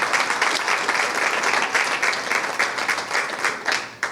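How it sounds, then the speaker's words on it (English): An audience at a school district press conference announcing a new CEO breaks into sustained applause, dense, even clapping that fills the room steadily for several seconds without pause. "Let's give them a round of applause if we can."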